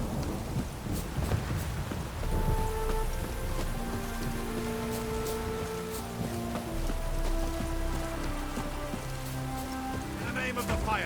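Rain falls steadily in The Witcher 3, a dense hiss of drops on surfaces with distant rumbles beneath, while game music plays over it and faint voices occasionally come through.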